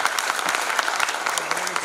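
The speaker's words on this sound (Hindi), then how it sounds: "एक बार बाहर से आए हुए अतिथि कवियों के लिए जोरदार तालियों" At a Hindi poetry gathering, the audience applauds the visiting guest poets with a thick, lively wash of clapping that holds steady and fairly loud from start to finish.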